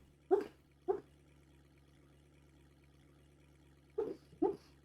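A sleeping dog whimpers while dreaming, giving four short soft yelps in two pairs, one near the start and one near the end, with a low steady hum in between.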